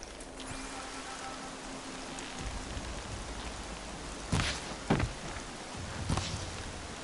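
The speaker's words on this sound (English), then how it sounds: "Rain's not so bad." Steady rain falling in an outdoor game world, a soft constant wash with a few brief sharper knocks or thumps standing out, no voices.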